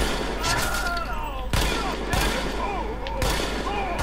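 Gunfire from the player's weapon in The Division cracks out in sharp bursts against a busy game soundscape, with several loud shots spaced a second or so apart and a voice talking over it.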